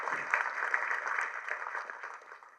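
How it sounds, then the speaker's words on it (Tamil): Applause from an audience at a film trailer launch, a soft steady patter of many hands clapping at a distance, fading slightly toward the end. "கைத்தட்டலாம்."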